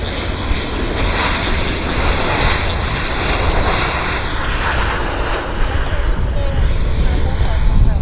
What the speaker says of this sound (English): Beautiful landing with the MAX.